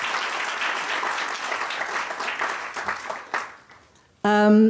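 Applause from a crowd at a corporate identity launch event rises loud at first, then thins into scattered claps and fades out before a sudden burst of music cuts in at the end.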